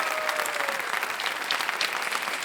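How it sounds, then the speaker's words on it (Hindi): A studio audience on the Indian quiz show Kaun Banega Crorepati claps steadily and energetically, the applause dense and even from start to finish. "देवियों सज्जनों, एक बार फिर जोरदार तालियां"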